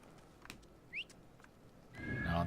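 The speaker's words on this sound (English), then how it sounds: "No, the horse isn't going to come up there." Horse hooves in the video game Assassin's Creed Origins, faint scattered clip-clops over quiet ambient game sound, with a brief high squeak and a rising rustle at the end.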